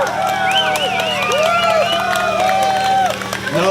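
A crowd at a county fair pedal tractor pull cheers and hollers, with overlapping shouts and whistling voices over a steady low hum, loud and close.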